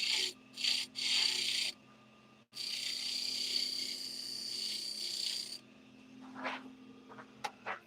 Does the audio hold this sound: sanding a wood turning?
yes